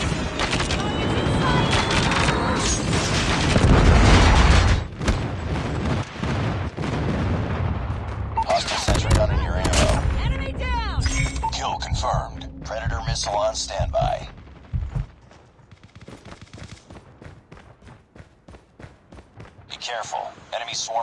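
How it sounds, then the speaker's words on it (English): An enemy airstrike in Call of Duty Mobile on the Hovec Sawmill map sets off heavy booms and rolling blasts mixed with bursts of gunfire, loud at first and then thinning out, with game voice callouts heard among the shots. "Enemy airstrike incoming."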